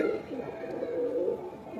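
Soft, throaty cooing from a breeding pair of pigeons repeats in a steady murmur, close by, with no talking.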